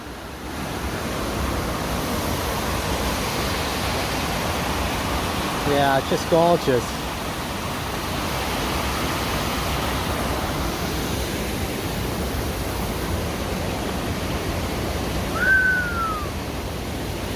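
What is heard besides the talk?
river flowing under a hiking trail bridge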